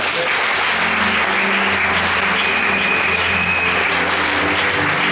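A church congregation applauding during a worship service, dense and loud continuous clapping filling the room, steady throughout with no voices on top.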